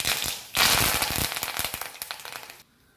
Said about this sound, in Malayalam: കടുക് പൊട്ടിയിട്ടുണ്ട് ഇനി ഞാൻ കറിവേപ്പില കൂടി ഇതിലേക്ക് ഇട്ട് കൊടുക്കുന്നുണ്ട്